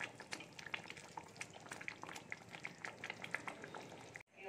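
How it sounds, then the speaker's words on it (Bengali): Bathua greens frying in a pan at home, a steady, fairly quiet crackle and sputter of oil that runs throughout with no talking. "এবারে বেথের শাকটা ভেজে নেব।"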